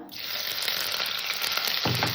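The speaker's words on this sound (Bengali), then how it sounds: "ফোড়নটাকে সুন্দর করে ভেজে নেব" Whole white cumin seeds sizzle in hot oil in a pan as a tempering, a steady bright crackling hiss that stays even throughout, with a brief stir near the end.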